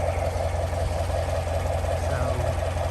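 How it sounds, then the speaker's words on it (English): A Corvette C7 on its factory exhaust, warmed up and idling before headers are fitted: a steady, loud, low rumble that stays even throughout, with no talk over it. "I wanted to get a little clip of the car running"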